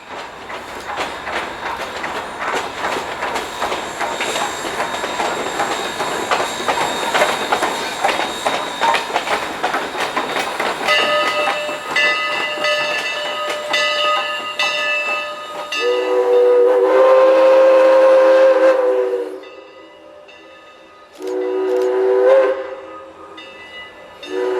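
Southern Railway 154 steam locomotive running alone back to the depot, a loud, close rumble of wheels and machinery followed by long, piercing whistle blasts with a short gap between them.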